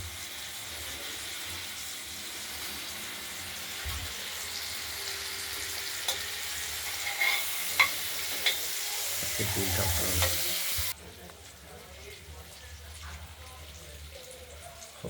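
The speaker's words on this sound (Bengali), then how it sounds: "এই টমেটো কুচিগুলো আমরা এর সঙ্গে ভেজে নিচ্ছি" Chopped tomatoes fry in a pan with ground spice paste for a prawn and potato curry, giving a steady broadband sizzle with scattered stirring clicks and scrapes, which drops sharply in level toward the end.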